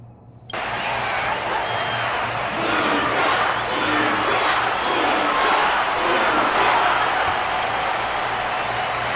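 A large crowd in the video game Honkai: Star Rail roars and applauds continuously after a sudden start, a dense, steady wash of cheering with no pauses, loud and close.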